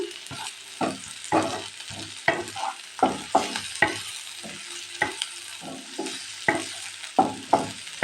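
A spatula scrapes and stirs a single green chili and a sprig of curry leaves in a frying pan, giving repeated distinct scraping strokes over a soft, steady sizzle of hot oil, with no talking.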